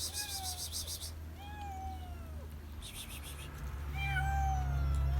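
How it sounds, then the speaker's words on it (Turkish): A tuxedo cat meows several times in rising and falling cries, fairly close, with chirping birds and a steady background hum during a morning street feeding. "O da smoking kedisi. Geliyor."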